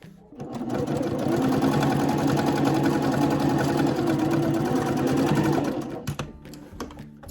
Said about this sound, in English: Now I'm going to do that straight stitch just across down.